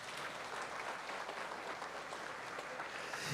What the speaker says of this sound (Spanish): Dale la gloria con un fuerte aplauso.